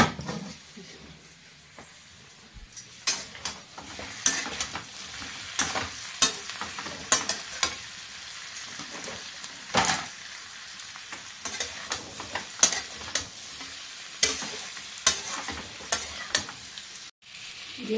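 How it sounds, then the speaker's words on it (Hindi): Garlic, ginger and tomato paste frying in a pan, giving a steady close sizzle broken by repeated stirring scrapes and clinks at an irregular pace. "ये लहसुन अदरक और टमाटर का पेस्ट है. इसे कब तक फ्राई करूंगी"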